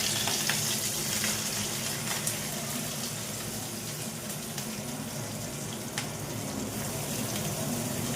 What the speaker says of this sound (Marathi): त्याच्यामध्ये आता कांदा आणि कढीपत्ता टाकून दिलाय बघा.